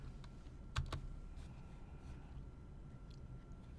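Keys on a computer keyboard are tapped in a short burst of quick clicks, with a couple of sharper strikes, close by but quiet against a faint room hum.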